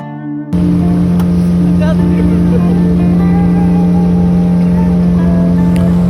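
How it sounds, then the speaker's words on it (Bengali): A reserved speedboat at Kachhopia ghat, bound for Char Kukri Mukri, runs with a loud, steady engine drone that starts abruptly after a brief quieter moment and holds close and constant, with a high whine on top. "কসফিয়া ঘাটে এসে একটা স্পিড বোট সারাদিনের জন্য রিজার্ভ করে নিলাম।"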